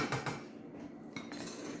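A metal pot of cream set down onto a hot stovetop burner, giving a couple of close clanking knocks of cookware against the grate, alone with no talk.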